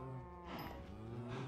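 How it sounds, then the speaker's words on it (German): A Minecraft cow lets out one low, drawn-out moo that swells in the middle, loud and close, with no other sounds. "Das ist eine Kuh."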